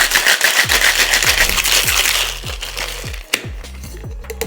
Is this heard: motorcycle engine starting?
no